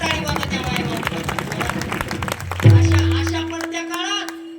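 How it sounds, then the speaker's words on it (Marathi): An audience at a kirtan claps together in a dense, steady burst of applause, then it drops away as a low sustained musical drone comes in and holds to the end. "जोरात टाळी वाजवा त्या माय माऊलीला"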